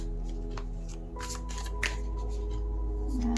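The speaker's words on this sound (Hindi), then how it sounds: "I'll shuffle one more time." Tarot cards being shuffled by hand, a close, steady riffling and flicking over a low background hum, with no talking.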